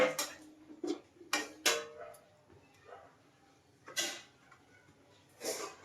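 A lid is set onto a pot of chicken and water on the stove, giving several sharp metallic clanks and clatters spread over a few seconds, close and fairly loud, with no talking.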